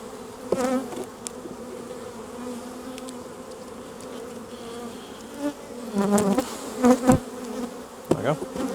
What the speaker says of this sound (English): We're just going to shake all these bees in.